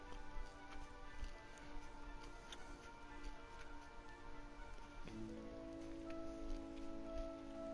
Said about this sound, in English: It is still raining.